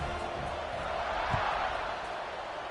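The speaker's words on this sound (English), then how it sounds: "this crowd is buzzing after that last score." Football stadium crowd after a score, a broad steady roar of murmuring fans filling the space, loud and continuous with no distinct cheers.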